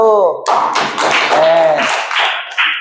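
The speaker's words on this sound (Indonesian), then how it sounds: "Kasih tepuk tangan lagi untuk kelompok 1." Students in a classroom clap for a group of classmates, a brief burst of close, uneven claps and taps. A voice speaks just before the clapping and carries faintly through it.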